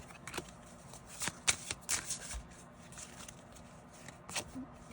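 A tarot card deck is shuffled close up, with crisp riffling and flicking card bursts at an irregular rhythm over a quiet background hiss; no talking.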